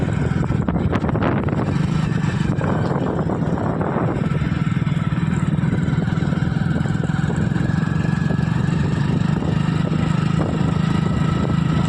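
A motorcycle riding close beside a Massey Ferguson 5225 DI mini tractor at sunset, steady engine drone with wind buffeting throughout, loud and continuous.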